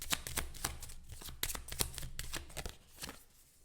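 Oracle cards riffled and shuffled by hand in a quick run of crisp, papery flicks and taps, close and fairly soft, with no talking.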